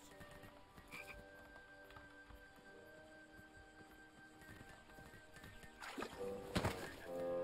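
Frogs croak repeatedly in the King's Quest video game, a low continuous chorus over steady ambient drones, with a burst of louder clicks and knocks near the end.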